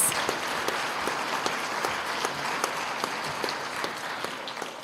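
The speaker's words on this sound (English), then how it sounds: "let's have a round of applause for our students who achieved honors in 2 classes" Audience applause at a junior high school awards night, a steady round of clapping from a room full of people with sharp individual claps popping out, holding evenly before tapering slightly at the end.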